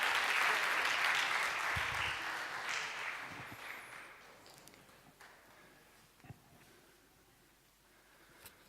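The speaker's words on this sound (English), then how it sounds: "Give Peter a round of applause." A church audience gives a round of applause. It starts as dense, loud clapping, then fades away over several seconds to a few scattered claps and quiet room noise.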